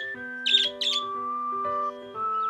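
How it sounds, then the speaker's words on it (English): Birds in a backyard give two quick, bright chirps near the start, set over steady sustained musical tones that continue after them. "Some birds have come to Ben's yard"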